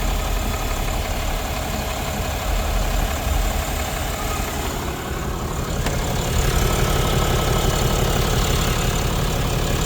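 A truck engine idles steadily with its cooling fan running behind it, a dense, continuous low rumble and whir that stays close and unbroken for about ten seconds.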